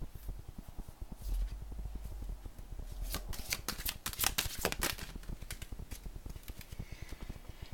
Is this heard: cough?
no